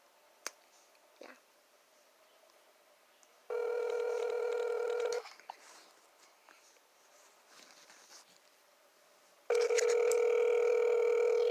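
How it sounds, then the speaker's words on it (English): A telephone makes a few clicks, then gives two long, loud tone bursts with quiet pauses between them as a call is placed and rings, with no voices. "I'm filming phone calls for footage"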